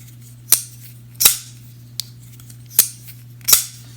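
A Miguron Pagos folding knife snaps open and shut in crisp, sharp clicks, five distinct snaps spaced irregularly over a few seconds, close and loud against a low steady hum.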